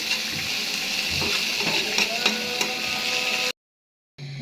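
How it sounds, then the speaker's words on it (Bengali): Cumin, garlic, chopped onion, green chillies, tomato and dried chillies fry together in oil with a close, busy sizzle and the clatter of stirring, then cut off abruptly and pick up again briefly. "প্রথমে জিরা দিচ্ছি তারপর রসুন পেঁয়াজ কুচি কুচি করে কাঁচামরিচ টমেটো শুকনো মরিচ এগুলো একসাথে তেলে ভেজে নেব"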